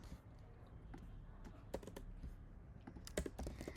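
Someone types on a computer keyboard while coding, with faint, irregular key clicks in quick clusters and a few sharper taps near the end, over quiet room noise.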